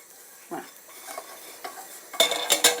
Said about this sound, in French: on saupoudre et on fouette